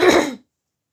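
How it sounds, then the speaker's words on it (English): A single short, close throat clear from someone with a stuffy throat, a rough guttural burst lasting under half a second, followed by silence. "clearing my throat quite a lot, because it's normally very stuffy"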